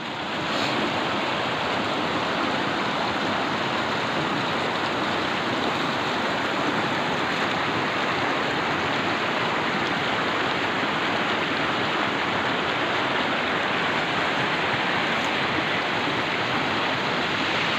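A village stream rushes steadily and continuously through its creek bed, a broad even roar of flowing water with no voices.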